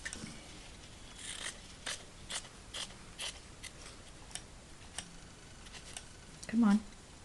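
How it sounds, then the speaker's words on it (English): Scissors snip through a piece of gelli-printed faux batik fabric with marbled colour, giving a scattered series of short, crisp cuts at close range and one louder crunch near the end, with no talking. "I'm just going to cut this piece to make it easier on me"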